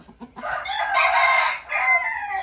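A rooster crows loudly and close by, one long drawn-out cock-a-doodle-doo lasting about two seconds.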